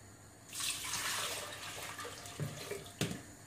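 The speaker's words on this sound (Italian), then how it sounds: "La prima cosa che facciamo è mettere all'interno del boccale l'acqua" Water poured into the jug of a Lidl Monsieur Cuisine Connect kitchen machine; a faint, steady splashing stream starts after a brief pause, with a couple of small clunks near the end.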